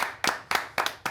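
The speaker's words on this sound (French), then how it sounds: "On peut l'applaudir." An audience on a French TV quiz show claps in a few sharp, evenly spaced beats, close and fairly loud with quiet gaps between them.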